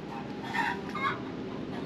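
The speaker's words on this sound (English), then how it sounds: "Some chicken here?" Chicken clucking in an exhibit aboard the Cutty Sark sailing ship, a couple of soft clucks under a steady, noisy background hum, moderately distant.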